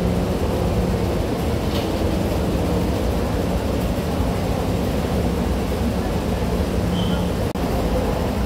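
A train sits at a station platform, its steady broadband rumble and hum running continuously and fairly loud throughout, with a faint brief squeal partway through.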